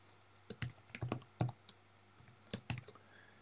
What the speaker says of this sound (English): I'm just going to type in a name for the device.